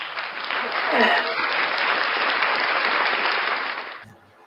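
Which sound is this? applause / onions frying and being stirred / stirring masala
applause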